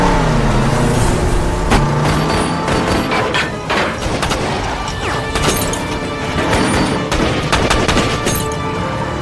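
Rapid bursts of gunfire and crashing impacts from a film car chase shootout, loud and dense throughout, with vehicles and smashing metal mixed into the barrage.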